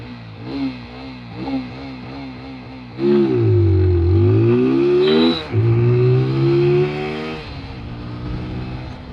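A modified TVS Apache motorcycle in sport mode revs hard for a drag race launch, engine rising in sharp loud bursts with a brief dip between, close and alone.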